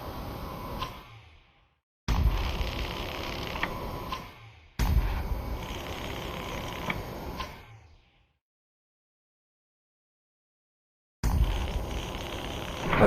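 An extended cutter tool in the VR game Lone Echo 2 cuts through bolts to open a hatch, giving bursts of grinding, ticking mechanical noise separated by abrupt silences, each burst steady and fairly close.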